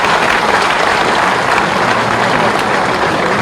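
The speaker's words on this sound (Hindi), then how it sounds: "तो ताली ऐसी नहीं बजी जैसी बजना चाहिए।" An audience at a school academy event with the chief minister and governor present breaks into loud, dense applause, continuous clapping that holds steady throughout with no voices.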